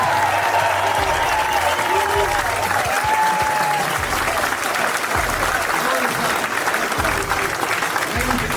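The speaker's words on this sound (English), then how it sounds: "Everybody, give this young guy a round of applause." A political rally crowd applauds loudly and steadily for a young boy, a dense continuous clapping texture sustained throughout with some cheering voices mixed in.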